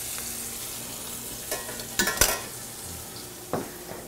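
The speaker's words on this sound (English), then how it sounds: "I'm going to turn my meat just to make sure that everything's going good with it." Osso bucco meat searing in a pan, a steady low sizzle with a few clustered clatters and scrapes near the middle as pieces are turned, then one more knock, close by, no voices.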